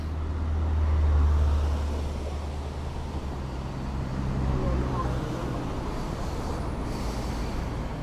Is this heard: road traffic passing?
yes